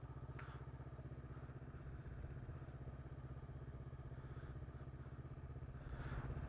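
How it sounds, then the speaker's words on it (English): A Honda motorcycle rides along a street near South Beach State Park in Newport, Oregon, its engine a steady, continuous mid-pitched drone with clattering mechanical texture, loud and close throughout, with no talking. "we're just gonna ride the Honda, stay on the street."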